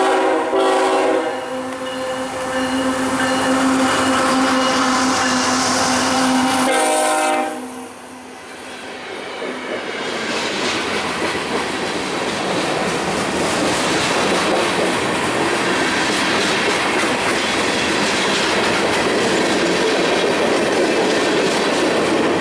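A locomotive-hauled freight train passes close by, its horn blaring loudly for several seconds before cutting off, then a steady, dense clickety-clack of wheels and rumbling cars continuing without a break to the end.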